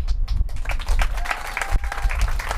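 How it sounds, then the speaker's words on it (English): Outdoor crowd at a farmers market ribbon cutting claps loudly and continuously, sharp scattered hand claps over a low wind-like rumble. "He deserves all the applause he can get."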